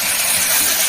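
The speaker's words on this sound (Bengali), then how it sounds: "মাছগুলো একটু ভেজে নিচ্ছি" Magur catfish frying in a pan for a spicy jhal, a steady close sizzling hiss filling the whole short moment with no pauses.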